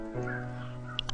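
A pet dog barks indoors at someone outside, a short bark or yelp heard faintly in the background over a steady tonal hum.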